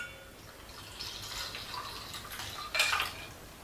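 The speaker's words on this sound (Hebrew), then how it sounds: "כשזה חם, אני שופכת את החלב על החלמון ואני מסננת" Hot milk poured over egg yolks and run through a strainer for crème brûlée custard, a steady close trickle of liquid that swells into a louder splash near the end, with no talking.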